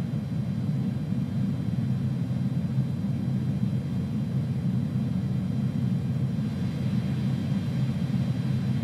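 Airbus A310 jet engines in cruise flight, simulated in Microsoft Flight Simulator 2020 on a San Francisco to Denver trip: a steady, continuous low cabin drone and rumble with no talk, unchanging throughout.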